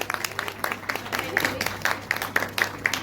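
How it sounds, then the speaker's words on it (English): Sparse, uneven clapping from an audience at a school Mother's Day celebration: a handful of separate claps scattered across a few seconds over light background murmur. "So I think one clap for my youngsters."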